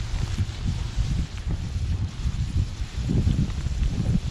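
A Trangia stove's flame roars and buffets in outdoor wind, a low, gusty rumble rising and falling in uneven bursts, close to the microphone with no voices.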